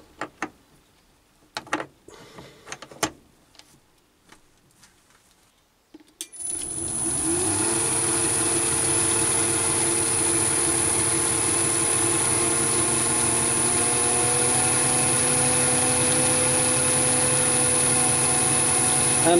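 A Chinese mini lathe's electric motor spins up after a few light clicks and taps, then runs steadily at about 690 RPM with a constant loud whine and hum, close by, with no talking.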